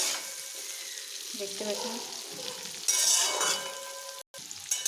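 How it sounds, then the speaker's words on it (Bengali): Onion and capsicum sizzle and fry hard in a hot pan for a spicy chicken kosha curry, a steady bright hiss with a few stirring scrapes and clinks, while a voice speaks briefly over it. "এবারে এইভাবে ভাজতে থাকবো জোরে করে।"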